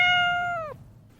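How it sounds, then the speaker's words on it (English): A single clear, close cat meow holds steady and then bends downward before cutting off, followed by a faint, quiet tail. "It was the cat."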